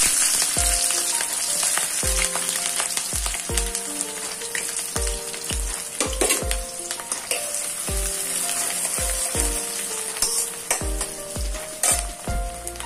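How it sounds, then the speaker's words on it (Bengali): Onion and chili fry in hot oil for noodles, making a dense, continuous sizzle up close. Background music with regular thumping beats plays over it throughout. "তেল গরম হয়ে আসলে আমি পেঁয়াজ আর মরিচটা দিয়ে দেব।"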